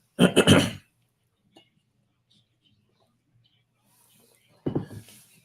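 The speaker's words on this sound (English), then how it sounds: "Sorry, I got to clear my throat" A radio show host clears his throat with a short, harsh rasp close to the microphone, followed by a long quiet stretch and then a second brief throat-clearing burst.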